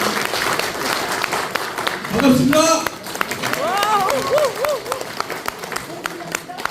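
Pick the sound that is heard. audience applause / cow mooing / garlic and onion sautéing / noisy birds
audience applause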